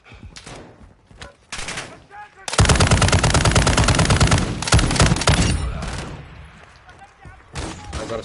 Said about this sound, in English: Man, I love how much noise this gun makes. This thing is so loud.